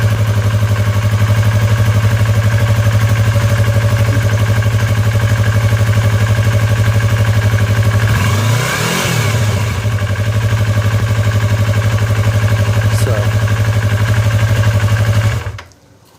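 A 2015 Yamaha YZF-R3 sport bike engine idles steadily and loudly up close, with a brief rev swell partway through before it cuts off abruptly near the end.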